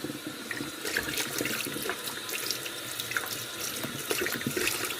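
Fruit being rinsed by hand in a sink of water previously used to wash grapes, with steady running water and splashing throughout, close and continuous, no talking.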